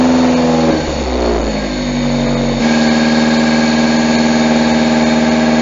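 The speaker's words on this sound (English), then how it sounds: "Idles are steady at about 2500." A freshly rebuilt car engine idles steadily at about 2500 rpm with the throttle held in place, giving a loud, continuous, even drone with a slight dip in tone early on.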